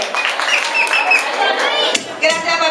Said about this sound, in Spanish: Fuerte los aplausos de Dani María Orgullosa